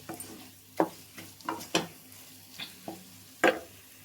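A ridge gourd, moong dal, tomato and fenugreek leaf curry is stirred in a pan, with a series of irregular scraping clacks of the spoon against the metal over a faint low simmer.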